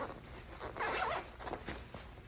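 A zipper on a Trail Maker backpack is pulled open in a few quick, rasping runs, close and fairly quiet, with faint rustling of the bag around it.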